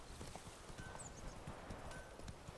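Hooves of Geralt's horse Roach in The Witcher 3, a steady clip-clop trot of repeated muffled hoofbeats at an even rhythm, soft and moderately close.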